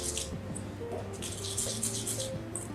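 A spoon stirs milk into flour for naan dough, making soft wet scraping and sloshing sounds with small clinks against the bowl, quiet and close with no talk.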